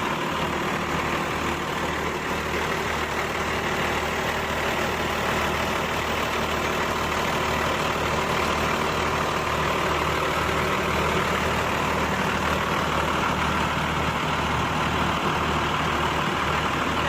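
An Adiputra luxury bus on a Hino RN 285 chassis idles with a steady, low diesel rumble and constant broadband hum, unchanging throughout and heard close by without talk.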